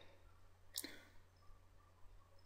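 A single crisp mouse click on OK in MagicDraw modelling software, quiet and close, surrounded by faint room hum and nothing else.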